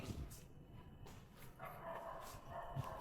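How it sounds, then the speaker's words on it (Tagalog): Dogs bark repeatedly at a distance, several animals overlapping in an irregular chorus over steady outdoor background noise. "Lakas kumahol yung mga aso."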